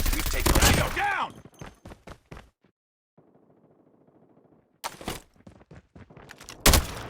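Gunfire bursts from a Call of Duty Mobile deathmatch, loud and close at the start, fading to a faint crackling rattle, then sharp shots returning near the end, with brief game voice callouts mixed in.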